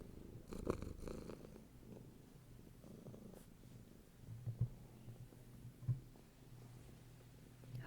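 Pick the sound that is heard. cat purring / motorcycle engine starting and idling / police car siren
cat purring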